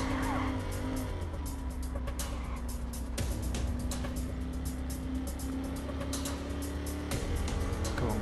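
A car in the video game Watch Dogs drives hard with a sustained engine roar and tire skids and squeals, loud and continuous with occasional sharp impacts.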